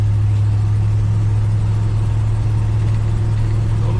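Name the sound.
1968 Ford F100 truck engine running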